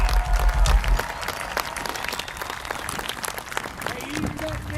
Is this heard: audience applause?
yes